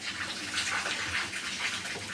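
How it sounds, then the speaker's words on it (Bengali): Rainwater running off a rooftop after heavy rain, a steady close splashing gush of water pouring down, continuous and fairly loud with no talking. "দেখেন এই যে জল গড়িয়ে পড়ছে।"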